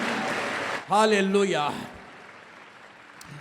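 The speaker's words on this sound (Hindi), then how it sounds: "ताली बजाकर तारीफ करो परमेश्वर की।" A church congregation claps in praise during a Hindi sermon, a continuous wash of clapping that a preacher's short exclamation cuts into before the clapping fades to a softer, lingering patter.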